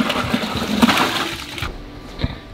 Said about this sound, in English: It could cool off more when I pour it into the skim milk.